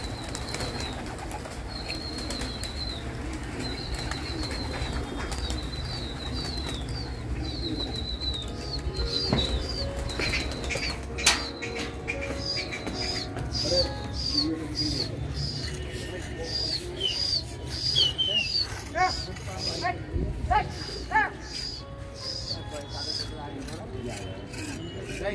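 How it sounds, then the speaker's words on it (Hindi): Hyderabadi racing pigeons released for a Delhi pigeon-flying session, with cooing and fluttering wing flaps over a steady outdoor background of other bird calls and faint voices. "ये अब्बा शारिक के कबूतर खुल गए"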